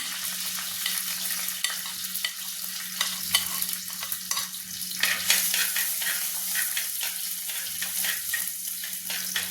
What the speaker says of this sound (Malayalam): അതിലേക്ക് ഞാൻ ഇഞ്ചി ചേർക്കുകയാണ്